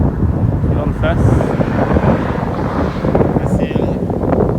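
Strong wind buffets the microphone outdoors on a big hill climb, making a continuous, loud, rumbling roar, with voices heard through it.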